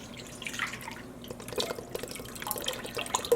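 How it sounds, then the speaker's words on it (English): Water running and dripping as a squeeze bottle of yarn dye is rinsed out at a sink, a steady trickle with small splashes that swell slightly toward the end. "I'm gonna rinse this out one more time."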